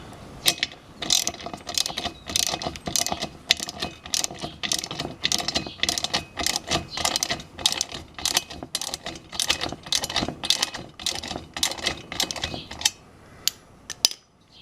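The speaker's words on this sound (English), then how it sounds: "I tightened it up just to the point where the bolt reached the end of the nylock nut." A ratchet clicks in fast, steady bursts as it tightens a bolt into a nylock nut during assembly of a Gorilla Carts GCG-4 poly dump cart, with the sound loud and close and pausing briefly near the end.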